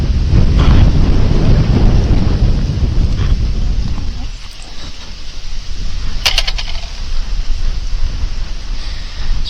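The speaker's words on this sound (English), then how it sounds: "It's pretty windy today." Strong, gusty wind buffets the microphone outdoors next to a Honda CRF450RL dirt bike, a loud, continuous roar that eases briefly, then builds again.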